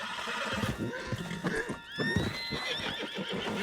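Horse in Red Dead Redemption II neighing with a rising, wavering whinny amid hoof clops and snorts, fairly close and loud, with movement noise around it and no talk.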